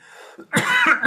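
Someone coughs after food goes down the wrong way, a few harsh, close coughs in quick succession following a short throat-clearing rasp.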